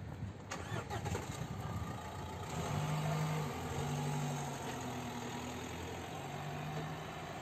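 A car engine cranks and catches, then settles into a steady low idle that carries on to the end, close and fairly quiet, with no talking.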